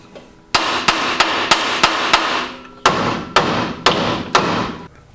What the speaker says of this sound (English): you can merely tap on the spindle side and that will loosen that taper